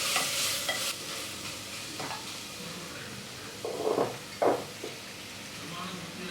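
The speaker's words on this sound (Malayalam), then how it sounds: "സ്റ്റവ് ഒരു മീഡിയം ഫ്ലെയിമിൽ വെച്ച് ഒരു 5 മിനിറ്റ് നന്നായിട്ട് വഴറ്റി കൊടുക്കണം" Masala paste sautéing in coconut oil for a Kerala chicken curry, a low steady sizzle with a few louder spoon scrapes and stirs in the pan, close and clear.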